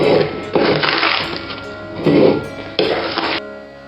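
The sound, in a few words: large pan for cherry jam placed on stove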